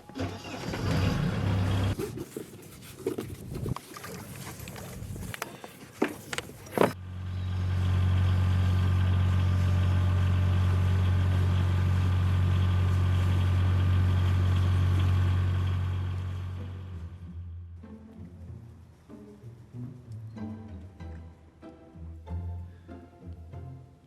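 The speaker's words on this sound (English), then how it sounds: "First, let's get the engine." A sailboat's engine starts up after some knocking and handling noises, then idles loudly with a steady, deep drone for several seconds before cutting out, leaving quieter clatter.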